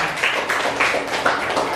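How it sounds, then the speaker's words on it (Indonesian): Scattered applause from a classroom of students, a steady dense patter of many hands clapping at moderate loudness, with brief louder bursts throughout. "Tepuk tangan buat Bang Marni."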